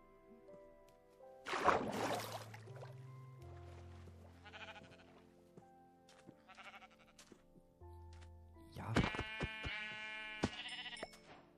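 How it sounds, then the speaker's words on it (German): Sheep in the Minecraft video game bleat in two loud bursts a few seconds apart, with quieter game sounds and faint tones in between. "Da hinten ist ein Schaf."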